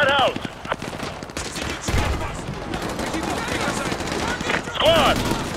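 Automatic and rifle gunfire crackles in dense bursts during a suburban street battle in Call of Duty Modern Warfare 2 Campaign Remastered, set in northeastern Virginia, with shouted squad orders and radio chatter over the shooting.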